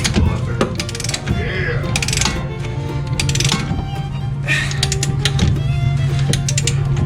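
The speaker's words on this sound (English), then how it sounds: "Now we use the ratchet." A ratchet clicks steadily while tightening bolts on the suspension of a 2000 Chevy Impala, with rapid pawl clicks and metallic clanks close by over a constant background hum.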